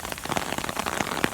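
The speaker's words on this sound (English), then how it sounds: "Now the rain's starting to come down heavily again" Heavy rain coming down outdoors at the Bruce, a dense steady patter of drops on surfaces, loud and close throughout with no voices.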